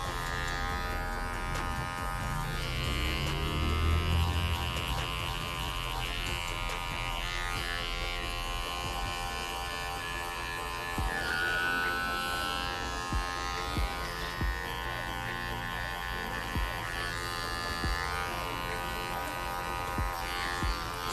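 An electric hair clipper buzzes continuously while cutting hair in a faux hawk styling session, a close, steady drone with small shifts in pitch and loudness as the blades pass through the hair.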